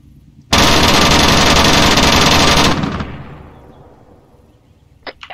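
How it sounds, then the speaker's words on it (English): Rifle emptied in one long continuous automatic burst straight up into the sky in Arma 3, loud and sustained for about two seconds, then a rolling echo fading away, with a couple of faint distant shots after. "Shoot directly up into the sky and empty out your first magazine."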